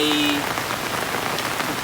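Heavy rain pours steadily onto surfaces outdoors, a loud, dense, unbroken hiss of drops that carries through the whole stretch with no voices over it.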